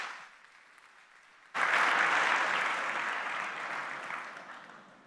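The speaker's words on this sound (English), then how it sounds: "Okay, round of applause." A conference audience at a tech event breaks into applause, starting abruptly after a quiet moment and staying as broad, steady clapping before gradually tapering off.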